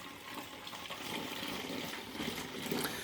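Warm soapy water with Super Stick and Suds car shampoo sloshing and splashing over the side of a container while being mixed, a continuous close, gurgling wash of liquid noise.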